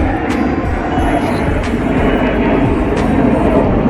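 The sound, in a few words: fighter jet flying overhead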